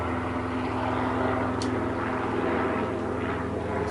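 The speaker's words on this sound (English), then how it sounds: "That's a Robinson, of course." A Robinson helicopter flies overhead, a steady low engine and rotor drone that holds at an even, moderately loud level for a few seconds with no talk over it.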